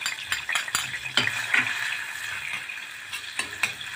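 About a large spoonful of minced garlic sizzles in hot fat, a close, steady crackle with light clinks and scrapes of a utensil stirring the pan, and no talking.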